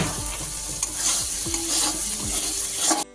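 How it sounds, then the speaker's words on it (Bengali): Spice paste sizzles and fries steadily in oil while being stirred with a spatula, with scraping strokes repeating every half second or so against the pan, close and continuous, then cutting off abruptly at the end. "মশলা কষানো হয়ে গেছে এবার কেটে রাখা টমেটোগুলো দিয়ে দেওয়া হচ্ছে"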